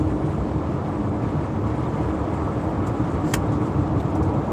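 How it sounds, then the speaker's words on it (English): Constant broadband roar of tires and engine on a rough local highway in Texas, steady and loud throughout, with a brief faint tick near the end. "A lot of road noise."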